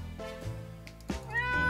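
A cat meows in the survival game 60 Seconds, a short in-game meow heard close and clear over a faint game background, with no talk.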